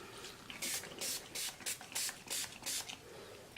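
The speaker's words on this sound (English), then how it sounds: "then I'm going to spray some more alcohol" Spray bottle of alcohol misting over clear soap in a mould: a run of about eight short, hissy spray bursts in steady rhythm, close and moderately loud, no talking.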